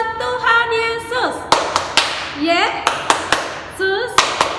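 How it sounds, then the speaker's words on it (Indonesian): Children clap their hands during a Sunday school service at an HKBP church in Tangerang, giving a string of sharp, near claps in a steady rhythm between bursts of singing voices. "kita mau tepuk tangan buat Tuhan Yesus."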